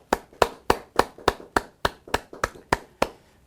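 An audience at a church leaders' meeting claps in unison, about eleven sharp, evenly spaced claps at a steady, brisk rhythm with no other sound.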